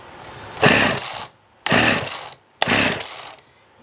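A Husqvarna 50 Rancher chainsaw on full choke roars in three short, loud bursts of about a second each, separated by brief pauses, with no talking.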